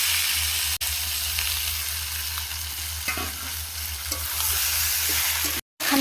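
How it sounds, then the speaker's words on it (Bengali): Marinated meat frying with spices in a pan, a steady loud sizzle with occasional stirring scrapes, broken by two brief dropouts. "মশলা আমার কষে গেছে, এবার আমি ম্যারিনেট করে রাখা মাংসটা দিয়ে দেব।"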